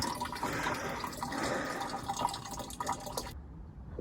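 Water splashes and trickles steadily into a watering can close by, a continuous filling sound that cuts off abruptly near the end.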